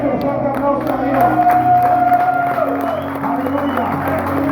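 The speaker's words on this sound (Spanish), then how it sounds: "Dale tu fuerte aplauso a Dios." Church congregation applauding during a sermon, a broad swell of clapping and crowd noise mixed with a voice and musical tones, loud and close.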